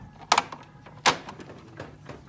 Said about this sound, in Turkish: Aynı zamanda kapısı açılıp kapatılabiliyor.